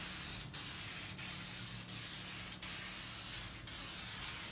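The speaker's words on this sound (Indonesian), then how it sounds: "langsung saja kita semprotkan" A spray paint can sprays Harley-Davidson Road Glide color onto motorcycle parts in a steady, loud hiss, broken by about six brief gaps as the spray pauses and restarts, with no talking.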